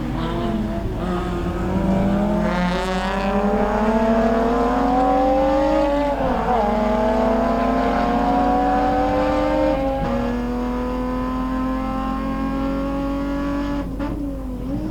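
Race cars at the Hampton Downs Superlap circuit in New Zealand scream through the gears, high-revving engines rising and dropping through several upshifts and downshifts, loud and close throughout with no one speaking.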